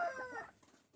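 A gamecock crows up close in a breeding pen, trailing off into softer clucking and rustling from nearby chickens.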